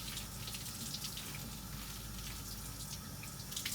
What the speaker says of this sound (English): I'm going to wash or rinse this arm.